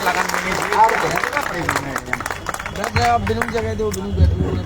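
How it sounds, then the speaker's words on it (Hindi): Crowd applause for poet Mohit Shaurya at an evening poetry gathering during the Sirsaganj Teej fair, loose clapping mixed with murmuring voices and nearby talk. "एक बार जोरदार तालियां बजाइए आदरणीय श्री मोहित शौर्य"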